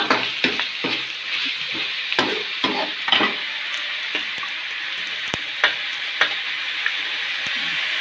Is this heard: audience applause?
no